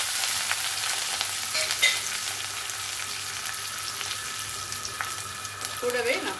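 Fennel seeds, small shallots, a dried red chilli and green chillies fry in hot oil for mutton chukka, giving a continuous bright sizzle with occasional stirring scrapes and small pops.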